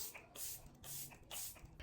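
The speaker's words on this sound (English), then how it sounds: "I'm going to go in with the e.l.f.'s Dewy Coconut Setting Mist and spray that all over my face" A few short hissing bursts of e.l.f. Dewy Coconut Setting Mist sprayed onto a face, three quiet pumps close to the microphone with brief pauses between them.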